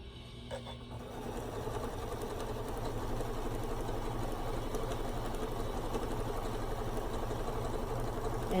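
A sewing machine stitches a quarter-inch seam on quilt scraps, running in one steady, continuous mechanical whir that picks up after a brief start and holds even throughout, with no talking.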